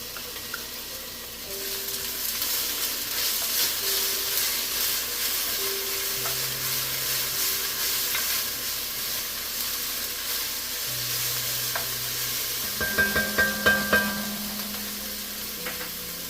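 Minced garlic sizzles in a hot pan while chickpeas and dumplings are being made, a constant bright frying hiss with faint clinks and some stirring scrapes near the end.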